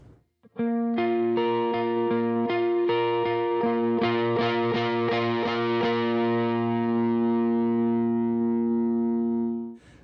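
Overdriven electric guitar chords ring out in a strummed pattern, then sustain and fade, with thick, gritty distortion throughout.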